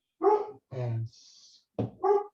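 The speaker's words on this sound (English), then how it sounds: "sorry about the dog." A dog barks several times close by in loud, separate bursts, with a high whine between barks and a brief spoken word in the middle.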